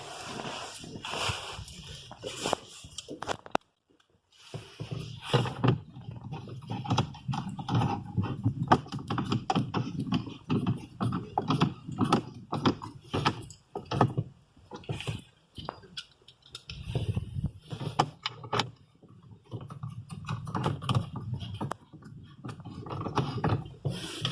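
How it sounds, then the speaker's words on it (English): Screws being driven into a car radio unit from an Opel Astra H, busy irregular clicking and rattling of a screwdriver and metal parts, close and fairly loud, with brief pauses throughout. "Now we have to screw the screws."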